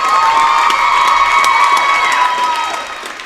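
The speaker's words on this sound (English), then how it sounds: "let's give one more round of applause to our seniors" Crowd cheering and applause in a gym for the seniors at an Evanston vs Riverton high school volleyball game, loud and continuous with shrill shouts and whoops, tapering off toward the end.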